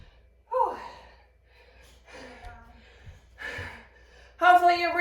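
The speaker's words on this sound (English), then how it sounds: "Hopefully you're breathing a little bit heavy like me." During a reverse-lunge workout, a person breathes hard, with sharp gasping inhales and heavy exhales that end in a short voiced sound.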